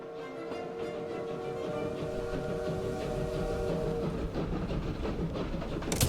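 Train rumble from the Great Train Smash event in Victoria 3, a steady rolling clatter that builds over about six seconds with a sustained tonal hum, fairly quiet and alone without talk.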